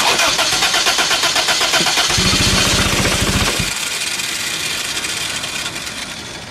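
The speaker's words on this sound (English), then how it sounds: "I think we have a running car again." An engine cranks with a rapid starter chatter, catches, and settles into a loud, steady running drone.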